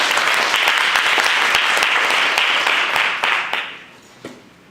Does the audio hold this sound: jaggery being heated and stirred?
no